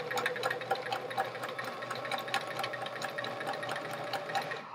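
A sewing machine stitches a quilt top with a steady, fast mechanical whir and patter, continuous and close, at modest volume with no talk.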